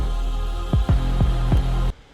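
A hip hop beat from Tom MacDonald's song Gravestones plays loud, with a deep sustained bass and four evenly spaced booming kick hits, then drops out abruptly near the end.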